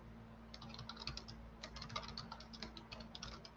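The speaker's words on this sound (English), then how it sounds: "I'm just typing this thing out." Quiet, steady typing on a computer keyboard with rapid keystrokes in irregular bursts, fairly close but faint, over a low electrical hum.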